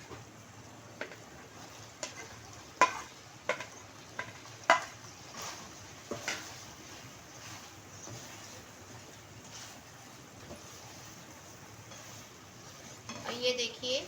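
Beef steak stir-fried with capsicum and onion in a pan produces a faint steady sizzle, with intermittent sharp spatula knocks and scrapes against the metal and a louder clatter near the end.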